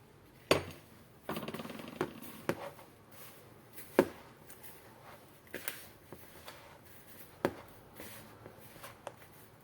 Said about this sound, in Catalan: M'agrada molt pastar amb les mans